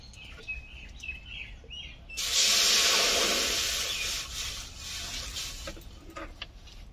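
Water poured into a wok set on a lit stove for boiling potatoes and green bananas, a loud rushing splash lasting a couple of seconds before tapering off, with faint bird chirps in the background.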